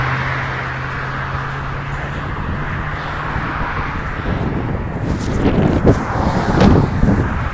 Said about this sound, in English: it's just really cold and windy.